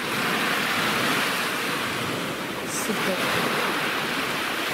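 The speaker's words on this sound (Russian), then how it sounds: "вот этот звук этих волн, вот это такое шум моря" Sea waves breaking on a shore in a continuous loud hiss and wash, with a brief spoken exclamation partway through.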